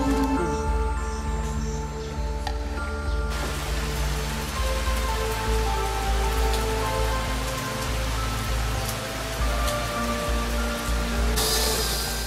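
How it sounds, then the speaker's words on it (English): Heavy rain pours down steadily and loudly in Guizhou Province, China, a dense hiss of drops drumming on surfaces with no pauses. "The big rain only disturbs people for a short while."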